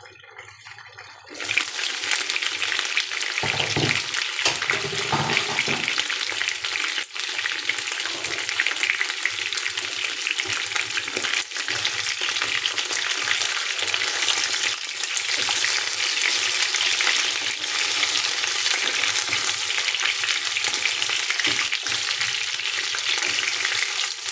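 Chicken and potatoes hit a hot pan and burst into a loud, close, continuous sizzle after a quiet start, with scraping stirs mixed through the steady frying.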